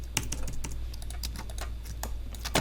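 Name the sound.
computer keyboard keys pressed, Alt and arrow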